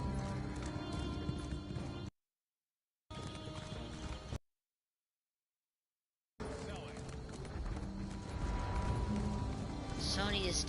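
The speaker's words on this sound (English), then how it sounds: "Horse." A horse in the game Elder Scrolls Online, with rhythmic galloping hoofbeats and a whinny among game music and effects, broken by two stretches of silence, while a voice talks over it.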